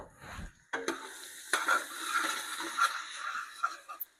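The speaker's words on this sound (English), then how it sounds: "I'm going to put my lid on it and let it continue to simmer." Black-eyed pea soup in a pot gives a quiet simmering bubble and sizzle, broken by a few brief clatters and scrapes, as though from a lid and a spoon, with no talk.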